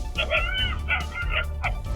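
Stray dogs in a street in Mathura bark and yelp in several close, agitated bursts, with whimpering mixed in and some background noise.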